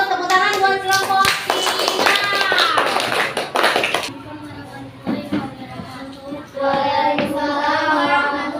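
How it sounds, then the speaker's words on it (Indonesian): A third-grade class claps for a group in a classroom, a dense burst of many hands lasting a few seconds, with children's voices talking over it and afterward. "tepuk tangan buat kelompok"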